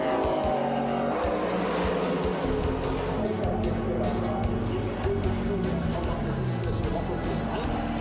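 A VW Scirocco race car enters the pit during the Nürburgring 24 hours, its engine roaring and revving loudly and continuously close by, with commentary spoken over it.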